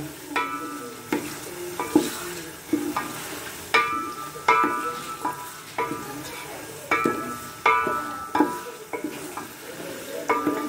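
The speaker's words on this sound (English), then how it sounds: "so I have added the uh, green chili and the tomato and now I will just keep it stirring" Green chili and tomato sizzle steadily in a hot frying pan while a utensil scrapes and stirs in regular strokes, close and fairly loud.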